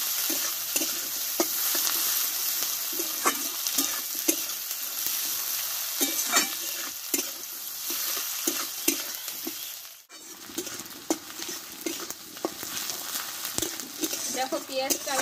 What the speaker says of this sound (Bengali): আর এখানে দেবো আমি বড় সাইজের একটা পেঁয়াজ কেটে রেখেছিলাম, দিয়ে দেবো। পেঁয়াজটা ভালোভাবে ভেজে নেব।